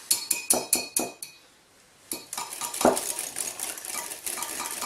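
Eggs being whisked into bechamel sauce in a bowl, a quick run of sharp metallic clinks, a brief pause, then a softer continuous rattle of whisk against the bowl, close and without talking.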